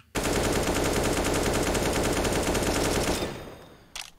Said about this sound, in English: Why don't we go ahead and fire again?